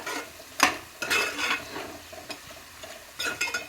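Green chillies added to a cooking pot and stirred: a few distinct scraping clatters of a spoon against the pot with a faint sizzle between strokes, close and without talk.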